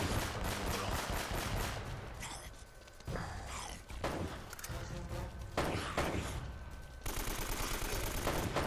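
Bursts of AK rifle fire in Uncharted: Drake's Fortune rattle in rapid, repeated volleys against a busy game soundscape, breaking off briefly between strings of shots.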